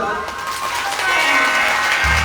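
Audience clapping at a Hindu Shiv Mahapuran katha, a broad sustained wash of applause that swells louder partway through, with a voice over the top.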